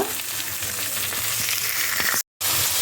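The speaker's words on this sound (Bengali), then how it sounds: "এবার মশলাটা একটু কষিয়ে নেব" Spice paste of chilli, turmeric, cumin and coriander powders with sugar, salt and a little water fries in a pan with a loud, dense, continuous sizzle, broken by one brief cut to silence.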